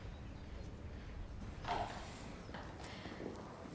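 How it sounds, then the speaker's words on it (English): Household Cavalry horses shifting in the stables at Combermere Barracks, with soft hoof clip-clops on the stable floor amid faint background hum and a brief louder stir midway. "We're in the horses' dressing room, the stables at Combermere Barracks"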